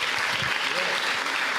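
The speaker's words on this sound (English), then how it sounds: "I would like to give you all a warm applause for Sabri Saad El Hams" Brief burst of warm audience applause during a Q&A, a dense continuous wash of clapping with a faint voice murmuring beneath.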